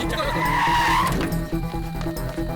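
A car brakes hard and skids to a stop, a loud rising tire squeal over engine rumble that cuts off after about a second, followed by a continuing low drone and dramatic background score.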